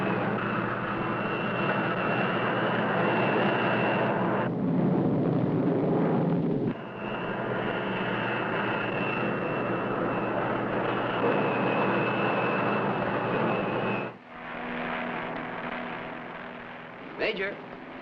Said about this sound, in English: the man on that plane right there.